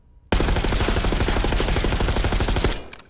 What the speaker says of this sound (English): I'm going to shoot this wall